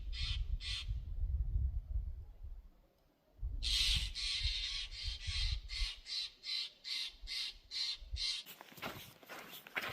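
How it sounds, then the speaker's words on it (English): Gray jays call outdoors on a mountain trail with bursts of harsh, repeated squawks: a couple of calls, a pause, then a rapid regular series fading into scratchy chatter, over low background rumble. "The birds, you can see them around them. They're probably gray jays."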